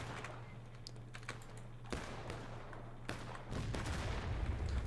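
Artillery fire in the Civil War game War of Rights at Burnside's Bridge: a few distant booming shots over steady low rumble, mixed with soft keyboard clicking throughout.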